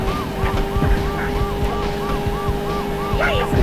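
A wailing police siren in the 1999 PlayStation game Road Rash Jailbreak, cycling steadily and loudly over a droning motorcycle engine.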